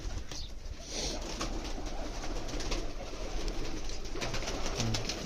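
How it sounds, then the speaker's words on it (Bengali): Pigeons coo softly and repeatedly in an indoor pigeon room, their low murmuring calls overlapping against a constant background hum. "এখানে হচ্ছে আমার আলাদা একটা কবুতর রাখার রুম এটা কবুতর থাকে"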